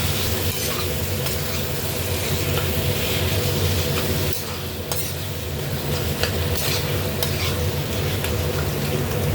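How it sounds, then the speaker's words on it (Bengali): Boiled, drained taro greens hit a frying spice paste for a prawn dish, giving a loud, steady close sizzle with repeated stirring and scraping of utensil against pan throughout, with no talk. "এবার আমি কচু শাকটা দিয়ে দেবো সিদ্ধ করা কচু শাকটা জল ঝাড়ানো আছে দিয়ে দিলাম"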